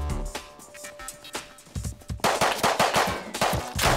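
Rapid bursts of gunfire in the survival video game Rust, with revolver shots mixed into a dense exchange that grows louder and busier in the second half.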